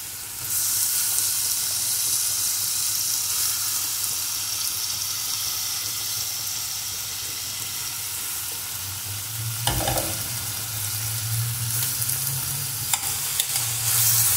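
Onions fry in a pan for a Tamil chicken kulambu, giving a steady, close sizzle with soft stirring. Near the middle there is a brief clatter, followed by a louder, fuller sizzle. No one speaks.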